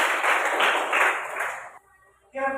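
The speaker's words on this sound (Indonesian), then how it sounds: "Tepuk tangan untuk kalian semua." A class of students claps briefly and loudly for a group, the burst of applause cutting off after under two seconds before a voice speaks.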